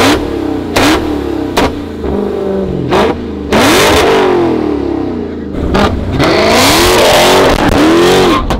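A flame-tuned Dodge Hellcat Redeye engine revs hard in repeated bursts, loud and close, with sharp rising and falling pitch sweeps, crackling pops between pulls and a sustained roar near the end.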